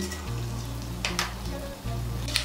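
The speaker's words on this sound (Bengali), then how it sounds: "ফোড়নটা দিয়ে একটু নাড়াচাড়া করে নিয়েছি" Dried red chili, whole cumin and fenugreek seeds sizzle steadily in hot oil, a continuous close frying crackle with a few brief sharper pops and spatters, no voices.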